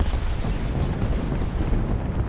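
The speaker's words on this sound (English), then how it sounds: "You hear a lot of artillery in the background." Continuous rumbling artillery fire in the War Thunder tank battle, a dense, steady low boom-laden roar filling the background with no distinct individual shots standing out.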